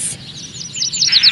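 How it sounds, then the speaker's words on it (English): Birds chirping in a short run of quick, bright tweets during a kids' English lesson, growing busier and louder toward the end, with no talk over them. "Birds. Tweet, tweet, tweet, tweet."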